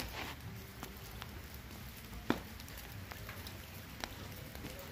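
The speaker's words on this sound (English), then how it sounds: "It's pouring down rain." Heavy rain pours down outdoors beside a burning firewood fire, a steady faint patter with scattered drip and crackle clicks and one sharper pop.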